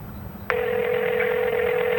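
A payphone at a phone booth in the video game Exit 19 gives off a steady, loud dial tone that starts suddenly after a brief quiet moment and holds unbroken to the end.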